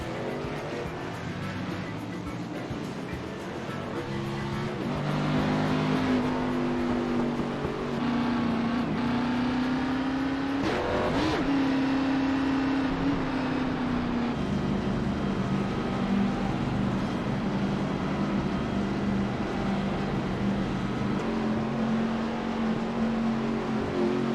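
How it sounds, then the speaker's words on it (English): Engine drone from a pack of hot rod race cars pulling away from pit road at Auto Club in an online racing video game, a steady loud roar with rising and falling revs throughout, no talking. "So 100 laps tonight should be a quick race as these cars are getting ready to exit pit road."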